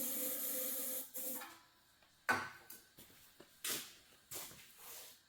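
Short hissing bursts of brake cleaner spray into the engine of a welder recovered from a river bottom, several separate close spritzes with brief pauses between them.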